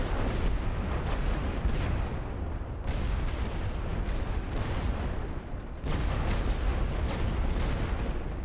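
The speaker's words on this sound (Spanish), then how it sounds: "Y aquí tenemos otro mortero." Heavy mortar and artillery fire in The Great War: Western Front, a World War I strategy video game, with dense overlapping booms rumbling continuously and only brief dips between blasts.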